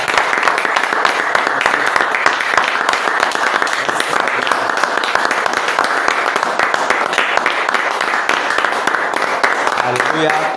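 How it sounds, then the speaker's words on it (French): Church congregation applauding together during a revival worship service at an assembly in Ndiengdam, steady dense clapping with crowd voices mixed in, loud and continuous throughout. "Donc, applaudissons pour le Seigneur Jésus"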